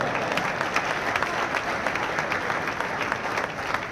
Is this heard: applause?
yes